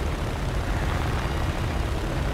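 A propeller-driven aircraft engine in the War Thunder combat flight game, a rank 1 plane, holds a steady, dense drone throughout with no talking.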